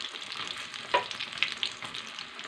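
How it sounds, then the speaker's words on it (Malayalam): Broccoli snack fritters frying in hot oil, a steady soft sizzle with a few brighter pops and crackles, close and clear, no voices. "ഇത് ഒരു വശം പൊരിഞ്ഞ് വന്നിട്ട് നമുക്കിത് മറിച്ചിട്ട് കൊടുക്കാം"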